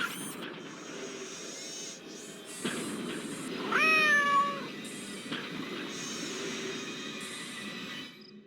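A robotic cat meows in the video game Nancy Drew: Shadow at the Water's Edge, a few synthetic, electronic-sounding meows alone over a faint steady hum, one longer wavering cry near the middle.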